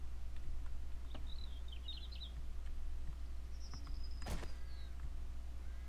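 A few brief bird chirps and whistles in the video game 7 Days to Die over a steady low hum, with a sharp rattling burst partway through.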